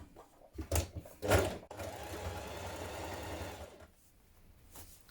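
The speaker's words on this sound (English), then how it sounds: "Now we are going to stitch the long edges of our leg bands." A home sewing machine runs a seam along the long edges of onesie leg bands, with a couple of sharp clunks before a steady, close two-second whir, then quieter handling sounds.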